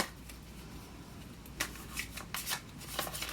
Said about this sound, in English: I want to shuffle all of a sudden.